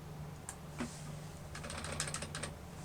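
Quiet clicks of a computer keyboard during Visual Studio programming work: a few isolated taps, then a rapid cluster of light key presses over a faint steady hum.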